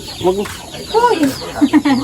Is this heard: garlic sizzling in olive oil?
no